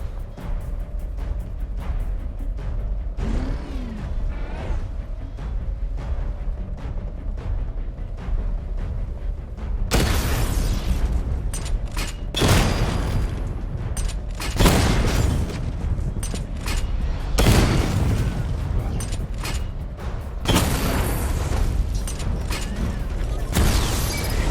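Batmobile missile barrage in Batman: Arkham Knight: mechanical whirring and creaks, then several heavy bursts of explosions arriving in waves, loud and booming throughout.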